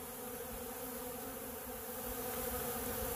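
Honey bees buzz at a hive entrance in a dense, steady drone, a close swarm humming continuously without pause.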